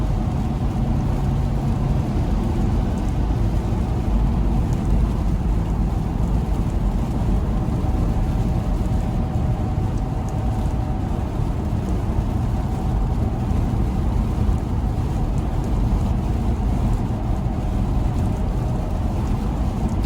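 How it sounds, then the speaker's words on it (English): Steady broadband road roar inside a vehicle doing about 72 mph on a wet road on Toyo Open Country A/T III all-terrain tires, a constant loud rumble with hiss and no talking. "You can hear the road noise."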